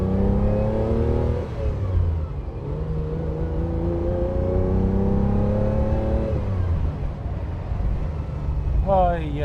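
A 1967 Ferrari 330 GTC V12 pulls along a farm road, revving up through the gears in rising sweeps with gear changes between, loud and close from inside the car, with voices talking over the engine.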